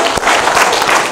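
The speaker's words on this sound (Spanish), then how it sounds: "Dele fuerte el aplauso al Señor." A church congregation applauds in a dense, loud burst of many hands clapping together, with no talking.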